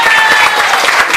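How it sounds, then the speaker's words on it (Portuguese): Applause from a church congregation honoring Jesus during an evening service, a brief, dense burst of clapping that fills the whole moment. "Salva de palmas para o Rei Jesus."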